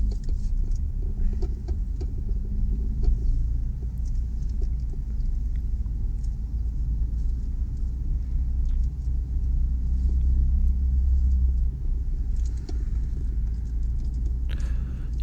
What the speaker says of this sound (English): So now I'm driving out to the petrol station and